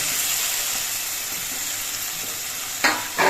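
Potatoes frying in an oily spice masala give a steady close-up sizzle, with a couple of louder bursts of crackle as they are stirred in the pan.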